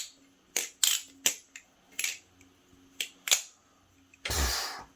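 A BBFirefly Talon balisong trainer flipping, a handful of distinct close metallic clicks spaced about half a second apart, ending in a brief rustling whoosh, no voices.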